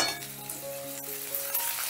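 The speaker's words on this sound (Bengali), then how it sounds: "আমি রসুন পেঁয়াজটা হালকা করে ভেজে নেব" A medium chopped onion and five or six chopped garlic cloves fry lightly in a pan over a low gas flame, making a steady soft sizzle with a faint clink of stirring, close and alone.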